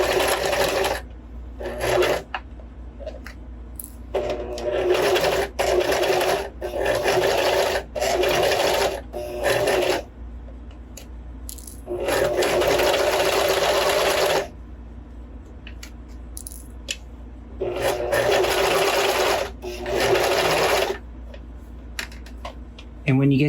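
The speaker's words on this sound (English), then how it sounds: "stitch with a normal stitch length, doing a back stitch at the top" A sewing machine stitches a seam at normal stitch length with a backstitch at the top, whirring in repeated loud runs separated by brief pauses, with a voice talking faintly between bursts.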